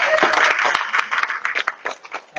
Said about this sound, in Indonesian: Boleh tepuk Bu Mesara.